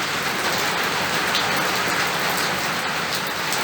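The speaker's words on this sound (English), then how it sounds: "It's pouring with rain. You can hear it on the roof" Heavy rain pours onto a roof at a farm campsite, a dense, constant hiss of drumming drops with fine patter throughout, close and loud, with no voices.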